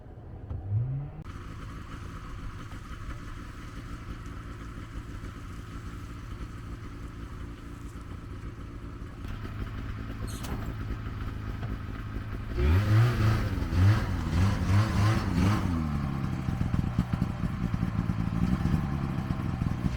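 An old vehicle's engine runs in the snow, first a low idle with clattering, then revved hard several times in a rough, loud burst before settling into a busy higher-speed running, nearby and without talk.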